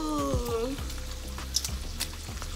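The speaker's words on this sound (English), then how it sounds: "Ooh, but my bacon is sizzling" Bacon sizzles in a frying pan, a steady crackling hiss with scattered pops. A voice is heard faintly under it early on.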